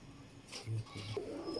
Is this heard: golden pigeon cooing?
yes